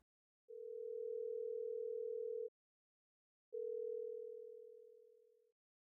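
A phone call being placed, with two long, steady ringback tones separated by a pause, clean and fairly quiet, the second fading out toward its end.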